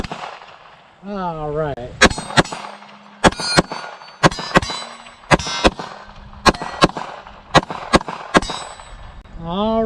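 About a dozen 9mm pistol shots ring out in quick pairs and singles, each followed by the bright clang of rounds striking a small steel bowling pin. Someone speaks briefly at the start before the firing.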